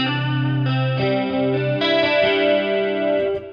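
Sustained electric guitar chords through a Boss Katana amp ring out with a washy, spacious reverb tail, changing every second or so, steady and fairly loud with no voices.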